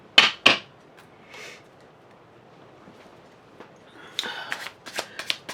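Tarot cards are pulled from a deck: two sharp close card snaps open the moment, then faint shuffling and a burst of quick, crisp card rustles and flicks near the end, with no talking.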